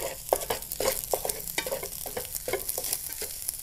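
Chinese sausage fried rice with seasoning stir-fried in a hot pan, a spatula scraping and tossing in a steady rhythm over a continuous sizzle, close by with no talking.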